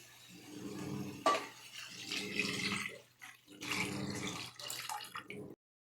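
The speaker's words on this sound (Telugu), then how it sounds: "1 గ్లాస్ రైస్కి 2 గ్లాస్ వాటర్ అయితే పోస్తున్నానండి" Water is poured from a glass into a cooking pot for masala rice, two gurgling pours of a few seconds each, fairly faint and close by.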